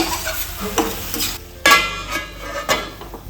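Spicy boal fish curry with chilli powder is stirred in a pan, giving sizzling frying with several distinct scraping strokes of a utensil at irregular intervals, close and fairly loud.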